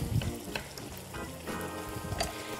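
Potato slices, cut into medium-thick rounds, fry in hot oil for a cod dish. A steady, close crackling sizzle runs throughout, with scattered sharper pops and no voices.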